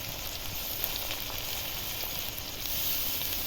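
Chopped garlic sizzles steadily in hot oil in a pan, a dense, continuous frying hiss that stays even and close throughout, swelling slightly louder near the end, with no voices.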